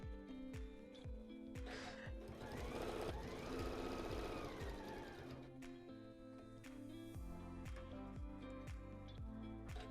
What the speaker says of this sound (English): I'm going to press it really quick, and then we're going to sew down the other side